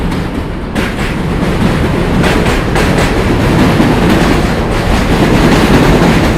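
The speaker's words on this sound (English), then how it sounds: "that's the J train face to face" A New York City J train rumbles past at close range, a loud, steady roar of wheels on track with faint clicking joints and wind buffeting the microphone throughout.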